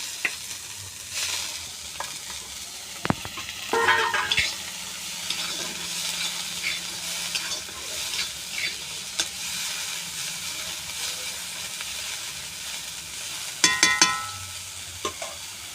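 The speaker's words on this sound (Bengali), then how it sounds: "এবার কেটে রাখা পেঁয়াজগুলো একটু নেড়ে নেবো" Chopped onions are stirred and fried in a pan, a continuous close sizzle broken by spatula scrapes and knocks against the pan, moderate in level with no talking.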